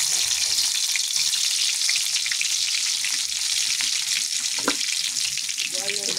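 Garlic sizzles in hot cooking oil for a sautéed alugbati dish, a loud, dense, unbroken hiss close by with a brief clink near the end and no speech.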